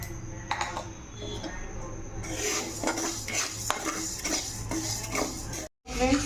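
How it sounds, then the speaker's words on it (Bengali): Metal utensils clank and scrape against a wok while moong dal fries, with sharp clinks and a faint sizzle beneath, ending in a brief cut of silence. "মুগ ডালটা আমি ভেজে নেব"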